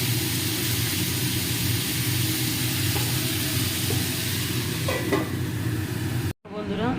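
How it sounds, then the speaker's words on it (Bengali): Jackfruit curry is stirred in a hot pan, a steady scraping and sizzling that runs continuously and fairly loud before cutting off abruptly near the end. "ভালো করে নাড়িয়ে দিতে হবে কিছুক্ষণ"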